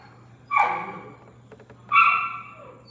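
A puppy lets out two loud, close barks about a second and a half apart, with a few faint soft yips in the gap between them.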